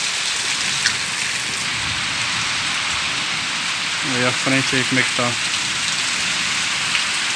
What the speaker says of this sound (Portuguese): Muita chuva, né?